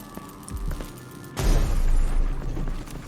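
A grenade blast in Dishonored 2: quiet scattered clicks and thuds, then one sudden deep boom that rumbles and lingers for the remaining seconds.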